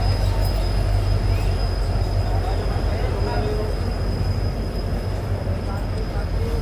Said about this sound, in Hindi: ट्रेन अपनी पहुंच रही है गोविंदपुरी जंक्शन रेलवे स्टेशन पे